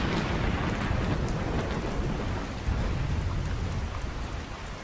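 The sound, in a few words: rain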